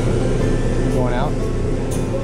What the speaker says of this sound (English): And then there was something else called the air conditioner. It's way louder than ours.